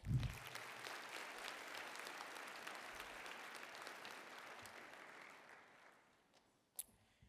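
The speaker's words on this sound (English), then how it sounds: "let's give them a round of applause" A dinner-session audience at the Michigan BPA gathering claps for an absent chapter, a steady crowd applause that holds evenly, then thins and fades out near the end with a few last scattered claps.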